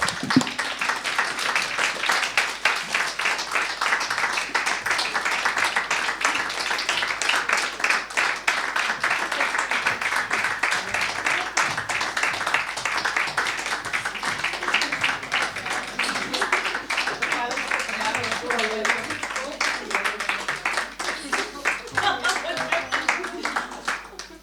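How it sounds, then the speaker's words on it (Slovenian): An audience applauds at a Slovenian story presentation event, a dense, steady patter of many hands clapping that carries on for the whole stretch at a moderate distance. "da jih še enkrat počastimo z aplavzom"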